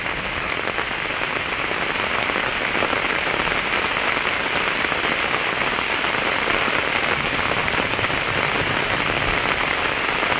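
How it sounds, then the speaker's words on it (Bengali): Heavy rain pours steadily on a village in Kanaighat, a dense, loud, unbroken hiss of drops on surfaces lasting the whole time with no voices. "খানাইঘাটে তুমুল বৃষ্টি হচ্ছে।"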